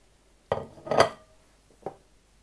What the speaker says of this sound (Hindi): अब इन सारे मसालों को हम दही में अच्छी तरह मिक्स कर लेंगे।